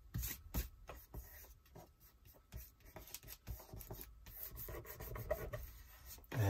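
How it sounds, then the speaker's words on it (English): Paper is rubbed by hand onto a glued art journal page, a close series of dry scratchy strokes in uneven bursts, with a soft thump at the end. "Just give a little bit of a rub, just for that glue to grab."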